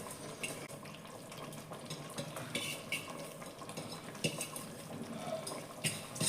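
Washed long-grain biryani rice being stirred and mixed in a pot, with soft continuous scraping, clinking of a utensil against the metal and wet grainy shuffling, fairly steady throughout with a few sharper knocks.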